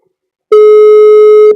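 A phone call's ringing tone sounds as one loud, steady electronic tone starting after a short silence and holding for about a second while the call goes unanswered.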